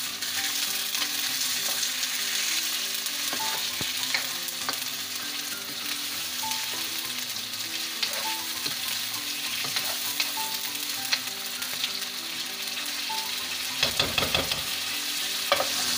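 Ginger garlic paste sizzles loudly and steadily in hot oil for Balochistan-style chicken karahi, a dense continuous hiss with occasional light stirring clicks near the end, close and alone.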